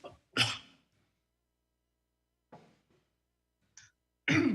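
A sneeze bursts out during an online meetup discussion, one sharp loud burst followed by quieter breathy sounds and a second strong burst at the end, with no talk.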